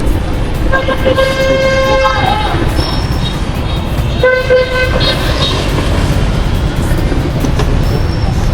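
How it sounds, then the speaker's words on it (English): Hanoi street traffic roars steadily while several car horns blare in long tones, two prominent honks separated by a pause, loud and close. "Traffic is just crazy."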